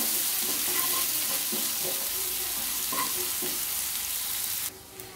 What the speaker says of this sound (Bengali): দিয়ে দেবো কেটে রাখা পেঁয়াজ কুচি,